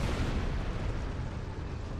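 Detonated charges blowing up inside a Dyson sphere chamber in Star Trek Online, a continuous loud rumbling blast that fills the whole moment without any voices.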